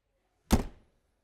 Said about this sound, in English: you can hear the door unlock